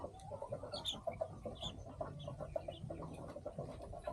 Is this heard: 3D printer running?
no